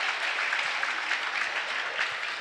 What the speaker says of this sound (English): You hear the applause for Drew